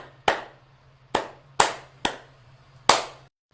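Close, crisp hand claps tapping out a syncopated rhythm: five sharp claps, the middle ones grouped closer together, each ringing briefly over a low background hum.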